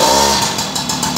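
Motorcycle engine revving after a rebuild, a loud close rev that holds a steady tone and then drops away into a rougher, fading idle, with no voices.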